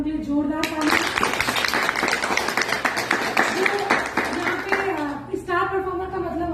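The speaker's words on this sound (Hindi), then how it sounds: "एक बार उनके लिए जोरदार ताली।" A group at a business team meeting claps for a star performer, with brisk steady hand-clapping lasting several seconds under a speaking voice.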